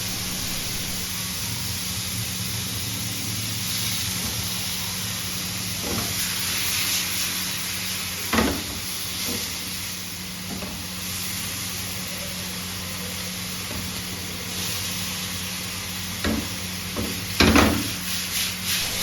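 Marinated chicken roasting over a full flame at an Indian-Pakistani street food stall, a steady loud sizzle and hiss with occasional scraping stirs and clacks of the utensil against the pan.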